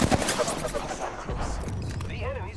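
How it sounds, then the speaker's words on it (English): Enemy gunfire in the video game Apex Legends crackles in rapid bursts, strongest at the start, while a voice speaks over the later shots. "The enemies are shooting at me."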